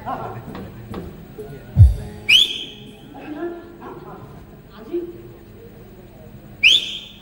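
Two sharp rising whistles, like a person whistling through fingers, ring out amid a rustic comedy stage play, separated by thumps and talk between performers.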